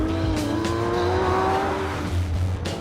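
A Porsche 911 GT3 RS with its engine over the rear axle is driven hard through corners with driver aids off, its engine howling loud and steady with rising pitch and tire noise, no talk.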